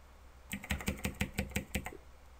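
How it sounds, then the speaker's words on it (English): About eight quick keystrokes clatter on a computer keyboard in an even, rapid rhythm, close and fairly quiet, with nothing else around them. "Sorry if you hear my keyboard."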